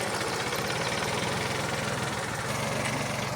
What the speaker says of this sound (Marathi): स्प्रे पंप जुगाड बघा, 2 नोजल किती फास्ट चालत आहेत